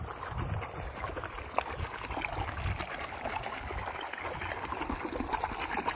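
A stream of flowing water rushes steadily and fairly close, with a constant broadband wash and small splashy surges throughout and no voices.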